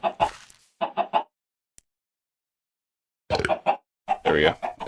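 Chickens in the Minecraft modpack TerraFirmaPunk cluck in short close bursts, a few rapid clucks at the start, a pause of near silence, then a louder cluster of clucking toward the end.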